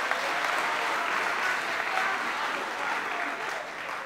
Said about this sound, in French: Acclamez encore très fort pour vous-même.